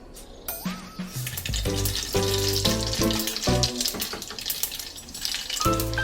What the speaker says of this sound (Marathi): आता मी या तेलामध्ये टाकून घेते ही मोहरी